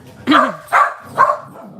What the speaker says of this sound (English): we have a new dog across the street. I think that's what they're barking at.